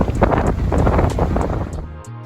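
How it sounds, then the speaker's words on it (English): Strong gusty wind at Virginia Beach buffets the microphone in loud, rushing bursts with a low roar, easing toward the end. "It's really windy."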